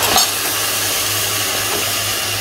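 Beef hits hot fried onions in a pan for biryani, setting off a loud, steady sizzle with crackling splatter that continues throughout.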